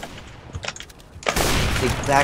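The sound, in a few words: AK-47 gunfire in CS:GO video game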